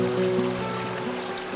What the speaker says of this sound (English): The flow of the water is very pleasant too.